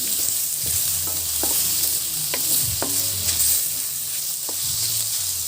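Boiled pork pieces sautéed in a pan for pancit bihon, a steady sizzle with repeated scraping and stirring clanks of the utensil, close and fairly loud throughout, no talking.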